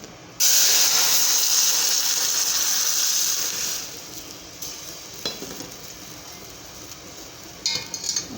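A sudden loud hiss and sizzle as water hits hot oil tempered with crackling cumin, curry leaves and turmeric for kadhi, then a gentler bubbling sizzle tapering off, with a couple of light clinks near the end.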